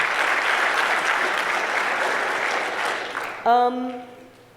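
Audience applause at a talk on games fills most of the stretch as a dense, steady clapping roar that slowly thins, before a single voice speaks briefly over its fading tail.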